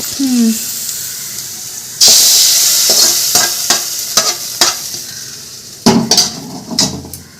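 Hot chilli-powder tempering poured into a Kerala fish curry sets off a loud burst of sizzling and crackling that fades and then flares again, with spoon stirring and pan clatter.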